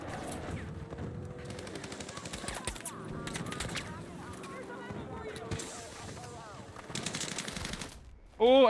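Slug shotgun and other gunfire in the first-person shooter Battlefield 6 during an open beta match, with repeated shots and bursts of fire amid battle noise, and a player talking over it.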